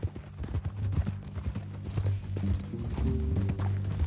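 Steady clip-clop of horse hooves at a walking pace in the video game Red Dead Redemption, close and fairly loud, with a low rumbling background.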